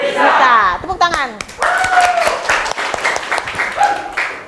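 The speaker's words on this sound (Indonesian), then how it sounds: "Tepuk tangan." Students clapping together in a classroom, a steady burst of applause mixed with children's voices calling out, fading into scattered claps before the teacher begins speaking.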